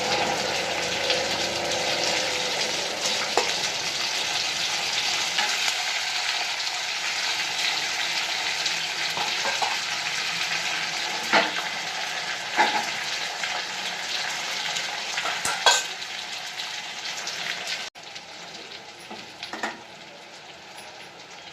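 Minced meat (keema) frying in hot oil in a pan, a continuous close sizzle with occasional stirring clicks, easing to a softer sizzle near the end.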